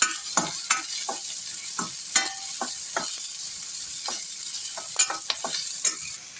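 Onion, green chili and curry leaves stir-fried in a pan for kanda poha, a steady sizzle broken by repeated scraping strokes of a spatula, close and fairly loud, no voices.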